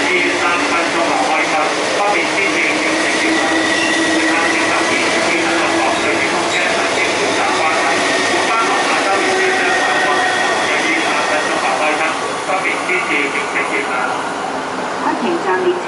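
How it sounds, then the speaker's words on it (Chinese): A non-stop passenger train hauled by an SS8 electric locomotive rumbles loudly and continuously through Sha Tin station in Hong Kong, a broad roaring clatter that runs unbroken, while a station announcement plays over it. "不停站列车将会驶经本站"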